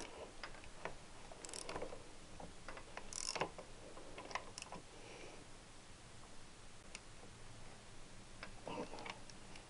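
A ratchet works in short bursts of clicks while a bolt is tightened during a clutch and alternator fit, with the clicking close and fairly quiet and scattered taps and clanks between the bursts.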